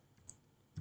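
Computer keyboard typing at a terminal, a few soft, quiet key clicks spread over under a second, the last one a little louder.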